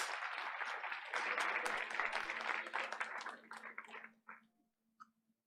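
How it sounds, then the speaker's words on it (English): Applause from an audience at a school board of education meeting honoring a student, broad clapping wash that holds steady then thins out and fades to a few scattered claps near the end. "Let's give him another round of applause."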